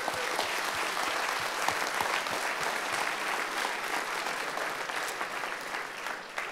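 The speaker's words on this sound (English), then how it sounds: "So we'd like to give a round of applause to that." A crowd at a grand opening ceremony claps in a dense, steady round of applause, many hands together at moderate loudness for several seconds and fading slightly at the end.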